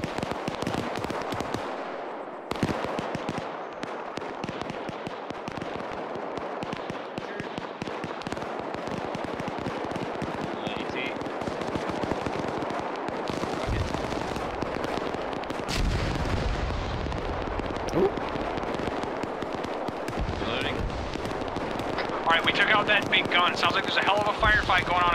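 Rapid bursts of video game gunfire crackle and pop throughout, with people talking over the sustained noisy action.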